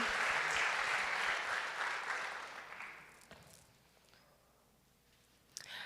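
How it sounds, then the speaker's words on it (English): An audience claps for West African dance performers at a Black History Month celebration. The applause is dense and steady at first, fades out after about three seconds, and one sharp clap sounds near the end. "So let's give them a big round of applause."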